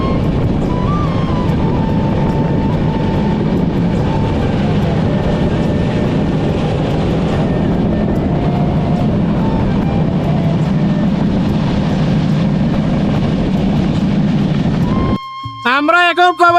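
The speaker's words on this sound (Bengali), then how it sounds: "আমাদের এই ট্রেনটি কোনো কোনো সময় 70 থেকে 80 কিলোমিটার স্পিডেও ছুটে চলছে" The Madhumati passenger train from Dhaka to Bhanga heard from inside while running at speed, a loud steady rumble and rattle of wheels that continues throughout, with tones briefly breaking in near the end.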